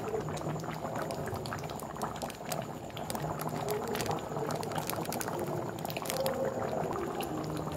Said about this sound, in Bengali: দেখুন সুন্দর করে ফুট লেগে গেছে